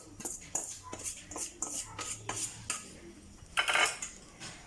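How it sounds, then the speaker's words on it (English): A utensil scrapes around a bowl and food drops into a colander while cooking tinfish biryani, with scattered clinks and scrapes, then a louder, brighter clatter near the end, and no talking. "Clean up my bowl nicely, my colander. Drop this all in."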